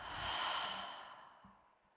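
A single long, soft exhale during yoga breathing practice, airy and close, swelling and then fading over about two seconds with no talk.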